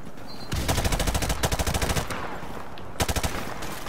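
Rapid automatic gunfire from Call of Duty Modern Warfare Remastered, in several close sustained bursts separated by short pauses.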